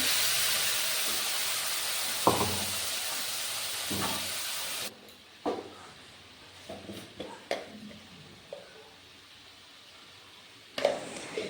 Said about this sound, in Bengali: কালো জিরে ফোড়ন দিয়ে দিলাম। এবার সর্ষে বাটাটা দিয়ে দিলাম।